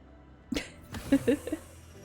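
A single sharp sneeze from someone close by, with a quick intake before it, in a quiet room during a Diablo 4 live gaming stream, followed by a few short vocal sounds.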